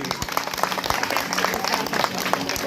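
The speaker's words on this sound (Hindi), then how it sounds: "ताली दी जाएगी।" An audience at a devotional singing gathering applauds, a dense patter of many hands clapping at moderate loudness, with a voice heard faintly beneath it.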